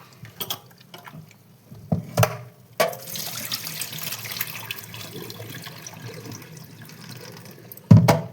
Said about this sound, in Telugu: ఇలా గట్టిగా పిసుకుతూ శుభ్రంగా కడుక్కోవాలి.